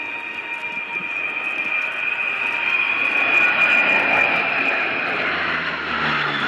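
A Breguet Atlantique 2 maritime patrol aircraft of the French Navy flies a display at RIAT 2025 at RAF Fairford. Its turboprop engines give a loud, sustained drone with a whining tone that swells as it passes overhead.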